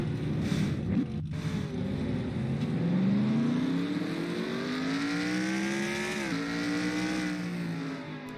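A race car engine accelerates back up through the gears, its loud buzzing drone climbing steadily in pitch, then dropping at a shift before rising again, continuous and close with no voices.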